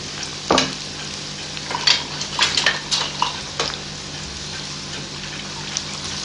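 Medium-size chopped onions frying in a pan for a curry gravy, a steady sizzle with scattered crackles and a few stirring scrapes, close and alone without talk.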